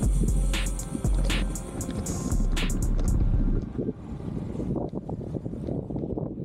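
Strong wind rumbles against the microphone during a midday ride on a hot summer day, heavy continuous buffeting easing partway through into gustier, patchier blowing.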